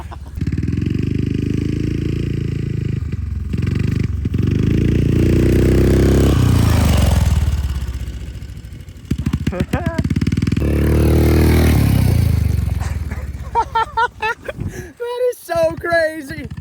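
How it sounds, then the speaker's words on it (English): Little Tikes Crazy Coupe ride-on toy car fitted with a small engine, its sticking belt giving a loud, sustained droning roar that swells and fades, with people talking over it near the end. "The belt kind of sticks, so it makes this really, really loud noise"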